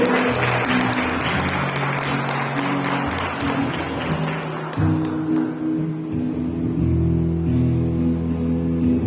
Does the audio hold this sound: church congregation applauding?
yes